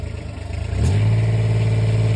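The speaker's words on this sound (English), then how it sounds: "You can hit the gas." A Club Car 1500xrt utility cart engine, being repaired, idles with a low, steady chug and then rises into a stronger, even drone as the throttle opens, loud and close with no speech.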